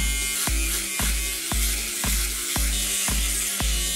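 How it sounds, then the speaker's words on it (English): Electric razor buzzing steadily against the skin of a face as it shaves, close and continuous, with sharp clicks or bumps repeating about every half second. "I've never had to shave my face before."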